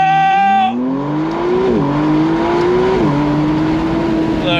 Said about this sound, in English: We're doing launch control. On throttle!